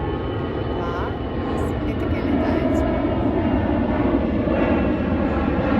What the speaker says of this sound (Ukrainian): ти будеш все одно чути літак, який над тобою пролітає